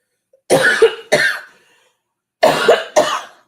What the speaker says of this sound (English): Still keep coughing.